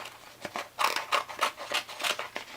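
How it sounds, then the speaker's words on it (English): Scissors trim excess adhesive sheet for a shadow box card, giving a close series of crisp snipping and rasping cuts in an uneven rhythm, with no voice. "And then I'll just cut off the excess,"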